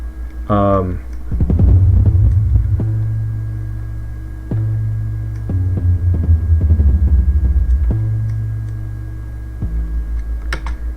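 An audio sample played across different pitches like a piano, rising notes at the start followed by a loud, throbbing low bassy pattern of sustained hits that stop and restart several times over about eleven seconds.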